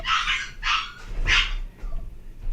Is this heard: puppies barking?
yes